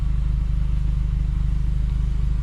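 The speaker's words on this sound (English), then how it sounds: "But the car is on. That's exhaust," A Nissan Versa Note with the HR16DE engine idles, its exhaust giving a steady, quiet low rumble with even pulsing throughout, no voices over it.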